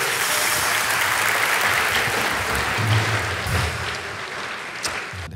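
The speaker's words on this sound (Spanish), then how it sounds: "fuerte aplauso para él." Audience applause at a comedy talk show, a loud, even burst of clapping that gradually thins out over a few seconds.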